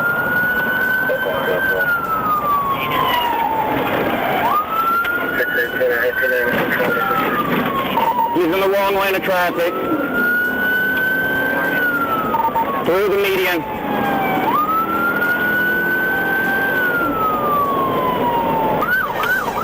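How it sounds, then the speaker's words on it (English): A police car siren wails during a high-speed chase in repeating rising and falling sweeps, loud and close, while someone talks over it amid road noise. "activated his lights and sirens"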